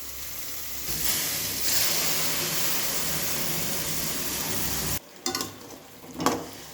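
Tomato-ginger paste is stirred into mushroom gravy frying in a pan, giving a loud continuous sizzle and hiss that cuts off abruptly, followed by a few scraping stirs and clinks.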